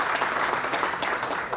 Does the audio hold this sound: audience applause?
yes